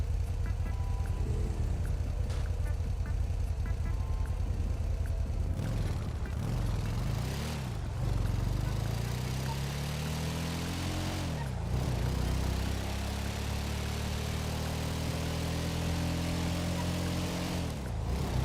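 A motorbike engine puttering along at low speed in GTA V, steady and droning with slow pitch rises and falls, under constant game ambience.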